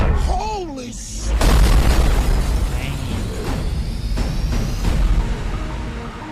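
Bomb blasts in an action film: deep booming explosions rumble and roll continuously for several seconds, layered with a loud music score and crashing effects.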